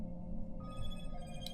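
A phone notification tone chimes over steady low background noise, a thin sustained ringing that holds through the short moment before a brief brighter burst near the end.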